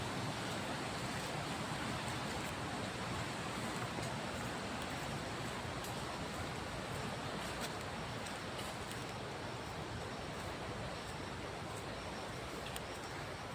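The Gayathri river's flowing water rushes around someone wading through it, a constant, close, broad hiss and gurgle with no break or talking.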